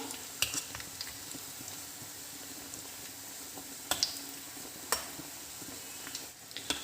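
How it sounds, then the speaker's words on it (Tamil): Rolled white sauce chicken bread rolls deep frying in oil, a soft steady sizzle with a few sharp clicks and taps from turning them, fairly quiet, no talk. "இப்போ வந்து ரோல் பண்ணி வச்சுருந்ததை எடுத்து போட்டுடலாம் எண்ணெயில்"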